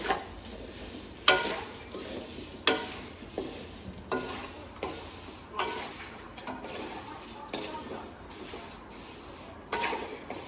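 Vermicelli frying in ghee while being stirred, a series of regular scraping strokes against the pan roughly every second or so over a soft background sizzle, with no talk.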